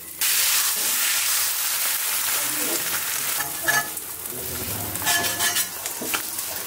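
Frying on a hot iron griddle at home, a strong close crackling sizzle that flares in bursts as food is stirred and turned, loud throughout with no speech.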